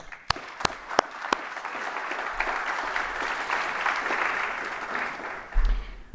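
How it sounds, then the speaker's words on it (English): Applause at an energy summit for the program organizers; a few sharp early claps lead into a full, steady round of clapping that carries through, ending with a low thump. "let's give them all a round of applause"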